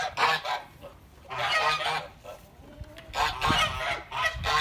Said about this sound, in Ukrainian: Наші гуси теж заходять додому